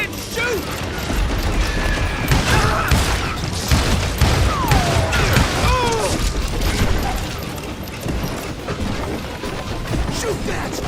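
Gunfire in the Western shooter game Call of Juarez Gunslinger rattles in dense, overlapping volleys with booms and crashes, loud and continuous, while voices shout over the shooting.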